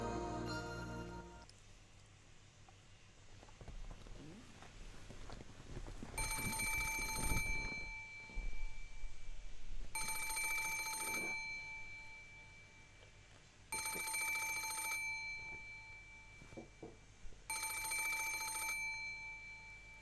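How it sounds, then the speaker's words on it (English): An alarm clock in the video game Umineko Tsubasa goes off in four evenly spaced electronic buzzing bursts, each a few seconds long, loud and shrill over a quiet background. "I could hear a monotonous buzzing electronic noise. I think this is Maria. It was coming from my alarm clock."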